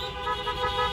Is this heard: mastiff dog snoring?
no